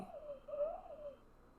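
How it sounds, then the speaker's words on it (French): Owl hoot sound effect in an mBlock program, a single wavering tonal call about a second long, clear and alone with no talk. "hibou"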